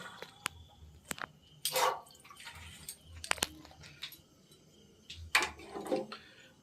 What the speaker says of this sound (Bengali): এবারে আমি জলের মধ্যে দিয়ে দেবো চানাগুলো